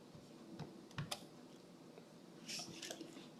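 Fingers type on a computer keyboard entering a vendor into QuickBooks, a few quiet, scattered keystroke clicks and taps in a hushed room.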